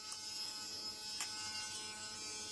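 An electric drill runs continuously with a steady high buzzing whine, fairly faint and even throughout, during work installing steel rods in U-brackets.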